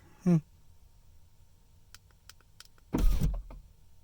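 Power windows on a Corvette C6 Z06 drop to the vent position from the key fob: a short, fairly loud motor whir near the end, after a brief voice sound and a few faint clicks inside the cabin.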